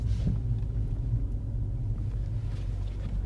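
Steady low roar of wind and road rumble inside a V8 twin-turbo engine-swapped, all-wheel-drive BMW M135i (1 Series) at high speed, with air rushing around the windows at a constant level throughout.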